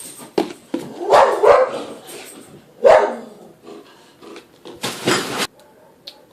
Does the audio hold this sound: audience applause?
no